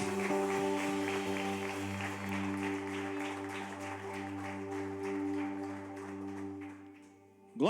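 Congregation clapping in a church, a sustained patter of many hands over a held musical chord from instruments, fading toward the end before a sharp sound at the close.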